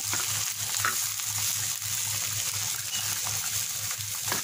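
Spiny gourd frying in oil in a pan: a continuous close, even crackling sizzle with faint bubbling and a low steady hum underneath, no speech.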